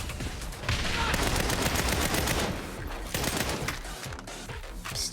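Sustained rapid gunfire from the video game Saints Row, a loud, dense fusillade of overlapping shots that runs for several seconds with only brief dips.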